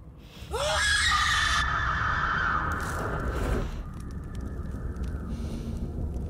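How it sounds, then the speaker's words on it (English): In a video game trailer, a woman lets out a loud, sustained scream that rises sharply and then holds for several seconds before fading under rumbling, noisy game sound effects. "She screamed a monster away."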